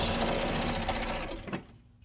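A sewing machine runs a steady, fast stitching burr while sewing a quarter-inch seam in fabric for drawer organizers. It is loud and close, then slows and stops near the end with no talk over it.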